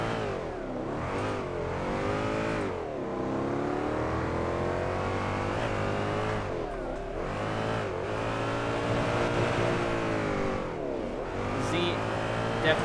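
Nissan 350Z with a V8 swap revving hard in the driving game Drift 21 during free roam, engine note rising and falling continuously over roughly thirteen seconds, loud and steady with repeated throttle blips and shifts.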